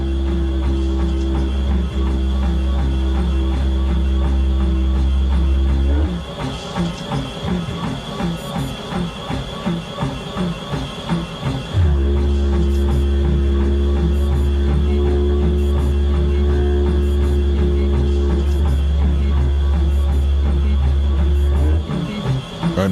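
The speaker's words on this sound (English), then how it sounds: "And then Shay starts playing the didgeridoo." Didgeridoo played aboard a crewed habitat, a loud, continuous droning tone with pulsing rhythmic overtones, briefly changing character midway before the steady drone returns.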